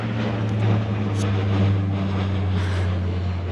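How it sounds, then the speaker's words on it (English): A propeller airplane drones steadily overhead at a campsite, its hum loud and sustained throughout with a low engine tone and no talking. "Oh, that's a plane, I don't know the difference."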